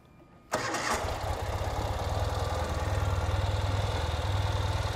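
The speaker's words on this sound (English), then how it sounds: "so you can see how it idles nice and smooth. Started right up." A 2019 Ural Gear Up motorcycle with fuel injection cranks and fires abruptly from quiet, then settles into a steady, loping low idle with a regular pulsing beat, close by and without talk.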